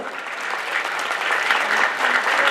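A crowd applauds vigorously at a GKS Katowice football team presentation, dense clapping swelling slightly and holding steady throughout.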